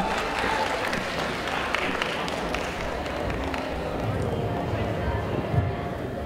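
A crowd at the Everest Idol UK 2017 grand finale claps steadily as a judge and singer is welcomed on stage. Thick, continuous applause fills the venue, with a few louder claps and thumps mixed in.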